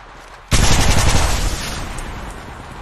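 Automatic gunfire from the video game Apex Legends Mobile bursts in loudly after a brief quiet moment, a dense rapid volley that keeps rattling on and gradually thins, with no talking over it.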